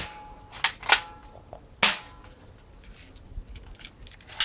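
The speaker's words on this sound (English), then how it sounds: "I'm piercing the apple." BB gun shots strike an apple in sharp, snappy pops, a few spaced cracks with a loud one near the middle, close and alone.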